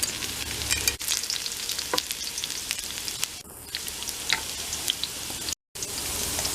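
Garlic sizzles and spits in hot cooking oil as mung beans with jackfruit are cooked, a steady close crackling frying hiss with scattered sharp pops and one brief dropout.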